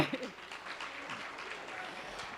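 An audience claps at a South Carolina Legislative Black Caucus health summit as the caucus chair is welcomed, a soft, fairly distant patter of hands that starts strong and thins out.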